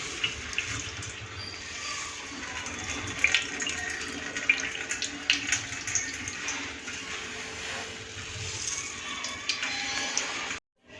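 Water drains and trickles steadily from grated bottle gourd as it is pressed by hand, a close, continuous watery splatter with a few small drips and clicks, with no talking.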